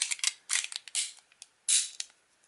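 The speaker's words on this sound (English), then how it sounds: "Let me dry fire this one, and I'll clear it just to make sure." Mechanical clicks and snaps from dry firing and working the action of a Browning 1955 pistol, a quick run of sharp close transients with one longer rasping slide or spring sound, heard alone.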